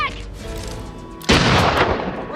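A film explosion from the 1990 monster movie Tremors hits partway through, a sudden loud booming blast that follows a sustained low rumble and keeps roaring to the end.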